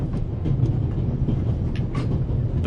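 Passenger train running steadily in The Raven Remastered, a continuous low rumble with faint rhythmic wheel clatter and occasional metallic squeals, close and unbroken throughout.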